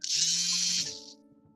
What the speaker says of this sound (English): Shaver's going off.